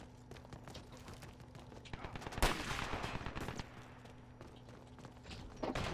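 Gunfire in the online shooter Dirty Bomb: bursts of automatic fire and scattered single shots, with one loud close blast midway and sharper shots near the end over a busy game background.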